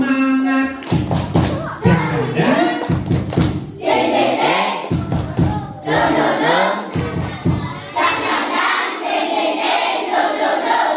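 Elementary school children perform a rhythmic spirit clapping chant in class, loud group claps in bursts alternating with shouted chanting voices, close and energetic.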